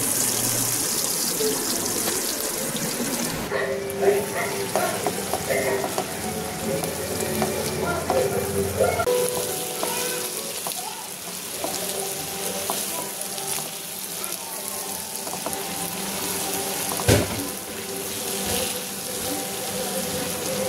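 Whole spices for a tempering fry in hot oil for Bengali beef kala bhuna, a steady close sizzle and crackle running throughout with occasional stirring clinks, no talking.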